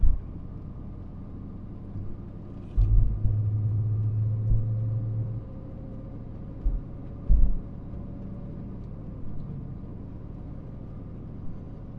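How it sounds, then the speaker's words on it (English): A car approaches on a quiet tree-lined road, a faint distant engine rumble that swells briefly with a few soft thumps, then settles back into low steady road noise. "we got a car coming"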